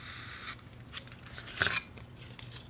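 A craft knife scrapes and clicks along a score cut in foam board while shaping a model airplane rudder, a few short, soft scratchy strokes and taps close by in a quiet room.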